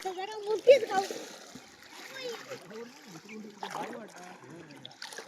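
Water splashing and trickling as people bathe in a village river in Konkan, soft close splashes that come and go under steady talk from several voices, including a child.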